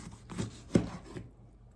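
A big kitchen knife cuts through soft, very ripe organic produce, giving a few short thuds against the board, with one louder chop in the middle, close and clear.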